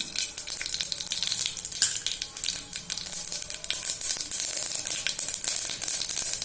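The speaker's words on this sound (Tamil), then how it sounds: "கடுகு போட்டுடலாம்." Mustard seeds crackle and spit in hot oil inside a pressure cooker on the stove, a dense, steady, close sizzle with sharp popping bursts throughout, no voices.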